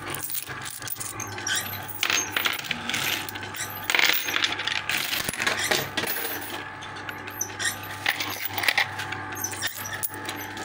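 Coins cascade and clatter inside a homemade Rock 'n' Roll coin pusher machine, heard as continuous bright metallic jangling and clinking with scattered louder drops over a steady low mechanical hum.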